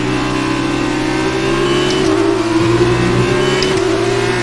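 F2 racing car engine in a video game at the Bahrain circuit, a loud, close, continuous high-pitched whine with the pitch rising and dropping through gear shifts, with no talking.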